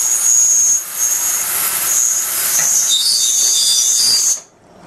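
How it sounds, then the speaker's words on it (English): Window blinds rinsing in the tank of a Sharpertek blind cleaner: a steady, loud hissing rush of water churning close by, lasting until it cuts off abruptly near the end. "We'll take these and set these right into the rinse tank."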